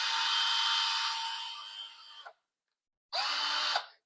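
A Titan combi drill whines at high pitch in a long run that gradually slows, stops briefly, then spins up again for a shorter burst; close and loud with no speech.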